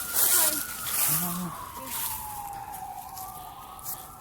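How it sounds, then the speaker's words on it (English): Emergency vehicle siren wailing near the hospital in Pikeville, Kentucky, a long sweeping tone that falls and rises, moderately loud and somewhat distant, with brief voices in the first second or so. "we're close to the hospital here in Pikeville. That's the reason you hear the sirens."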